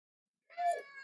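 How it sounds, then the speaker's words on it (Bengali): A cat gives a single short, close meow in a quiet kitchen. "মিয়াও।"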